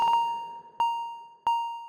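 Three bright plucked synth notes at the same pitch, each ringing out with a long reverb tail that decays before the next strike.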